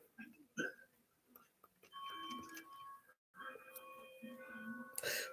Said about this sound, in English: Ding dong, Avon calling.